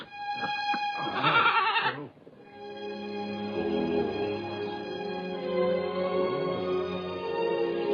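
A goat gives a loud, close, wavering bleat lasting about a second, followed by quieter sustained tones and low background sounds.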